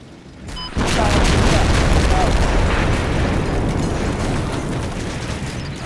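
Explosions in the Normandy-set wargame Combat Mission Battle for Normandy: a sudden heavy blast after a quiet lead-in, then sustained rumbling detonations and crackling bursts rolling on, slowly easing.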